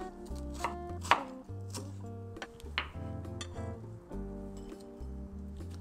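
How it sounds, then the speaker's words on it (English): A knife slices an ingredient very thinly on a cutting board while Malaysian fish curry is prepared, making rapid, close, crisp taps in an uneven rhythm with a few sharper knocks. "I'm gonna do is to slice it very thinly"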